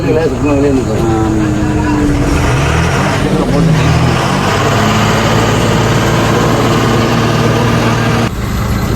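Lorry engine running while the truck reverses: a loud, steady diesel rumble with shifting engine tones, as voices talk nearby.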